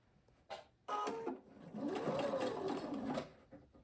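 Sewing machine stitching along a quarter-inch seam line while making continuous bias binding, a steady close mechanical whir with short starts and stops, no talk.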